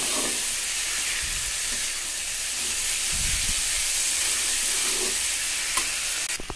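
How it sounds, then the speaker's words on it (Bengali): Lentils sautéing with spices in a pan for a Bengali dal with kochu (taro root), giving a steady close sizzle and frying hiss with faint stirring scrapes throughout, no voices. "খুব ভালো করে ডালের সঙ্গে মশলার সঙ্গে কষাতে হবে"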